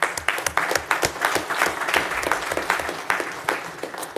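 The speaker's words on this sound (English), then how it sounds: "Let's give them a round of applause." Applause breaks out at a city council meeting: a crowd claps steadily for a few seconds, with dense, overlapping hand claps at a moderate distance.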